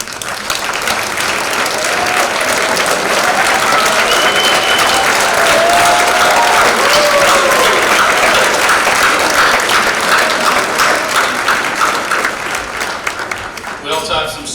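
Gala audience applauding board members as they stand, loud sustained clapping with a few voices and cheers mixed in, tapering off near the end.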